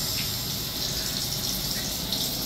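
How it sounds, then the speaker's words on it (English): Water gushing from the shower in a Celebrity Aqua Sky Suite on a cruise ship, a loud, steady rushing hiss that runs unbroken without speech. "and it starts the flow of water"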